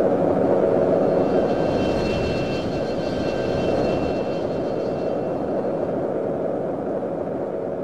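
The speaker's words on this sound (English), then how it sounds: "The Grumman F-14 Tomcat was introduced in 1974, and it's a supersonic twin-jet 2-seat variable swing-wing fighter aircraft" A Grumman F-14 Tomcat, a twin-jet swing-wing fighter, in a flight simulator, heard as a loud, continuous broadband jet roar that holds steady throughout.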